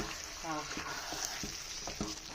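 Chicken curry is stirred in a pan, with soft scraping strokes and a gentle sizzle at moderate distance, the stirring coming in a few uneven passes.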